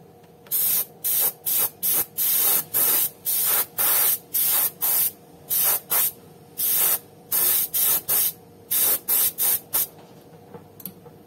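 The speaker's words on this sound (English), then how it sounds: "So I'm using airbrush." An airbrush sprays light coats of paint onto the sole of a patent leather Christian Louboutin shoe, giving loud, sharp hissing bursts in a quick stop-start rhythm, about two dozen short sprays with brief gaps between them.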